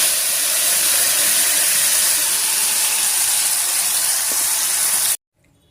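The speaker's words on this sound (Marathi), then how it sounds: "आता हे टोमॅटोचं मिश्रण यामध्ये टाकूया." Tomato mixture hits hot oil with frying garlic pieces and asafoetida for a South Indian style tomato pickle, giving a loud, steady sizzle and hiss that fills the clip before cutting off abruptly near the end.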